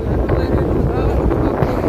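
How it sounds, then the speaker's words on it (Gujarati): Constant, loud blowing air noise from an air cooler runs throughout, with muffled voices underneath at a meal gathering. "કુલરનો વાયરો આવતો હશે"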